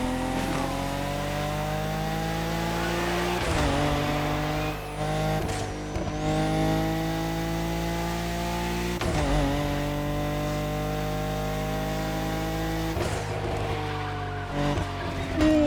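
A car in The Crew Motorfest slides through a slalom, its engine droning steadily with repeated revs and pitch swoops as it shifts and drifts, loud throughout.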